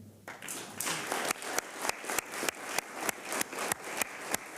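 Applause at a county commissioners' meeting honouring young recipients, the crowd's clapping settling into a rhythmic, evenly spaced beat of loud claps at moderate volume.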